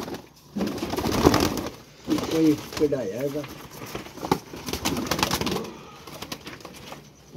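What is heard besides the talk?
pigeons cooing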